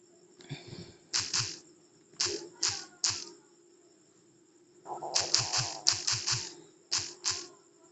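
Phone-screen keyboard typing in an Urdu language setting, heard as bursts of quick close taps in short runs separated by pauses, with a steady faint hum underneath.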